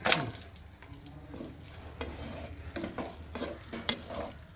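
Boiled potatoes and cooked mutton sauté in a pan for mutton kuzhambu, giving a soft sizzle under repeated scraping stirs and occasional clatters, fairly close and steady.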